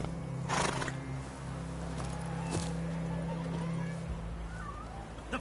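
Roach the horse from The Witcher III gallops with rhythmic hoofbeats and a brief whinny, steady at mid distance over a low droning game ambience.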